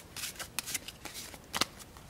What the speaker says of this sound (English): let's give up one more shuffle